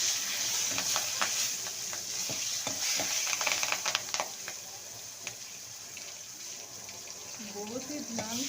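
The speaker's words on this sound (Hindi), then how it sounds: "इसका हम लगा रहे हैं तड़का।" Steady hiss of oil sizzling in a pan as green chillies and spices are tempered, with light scraping and clinking of utensils and brief faint tones near the end.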